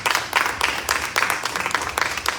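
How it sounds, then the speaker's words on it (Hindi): A church congregation at an Urdu-language service claps for a dhol player. The applause comes in dense, steady bursts across the whole stretch and stops abruptly at the end. "जोर से तालियां बजाएं"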